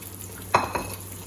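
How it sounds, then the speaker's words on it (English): Spanish omelette mixture of egg poured into a hot frying pan, with a short scrape and soft sizzle against the pan, two quick knocks standing out over a low steady hum, close by. "Now we're going to put the whole thing on the pan, like this."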